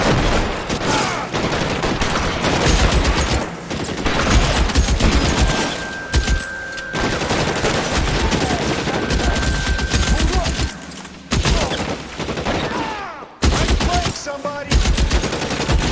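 Gunfire in the video game L.A. Noire: loud, sustained bursts of rapid shots overlapping one another, with brief pauses between volleys.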